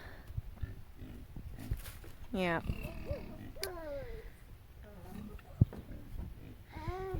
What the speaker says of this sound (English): Our pigs are only slightly spoiled.